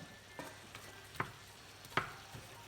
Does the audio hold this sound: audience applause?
no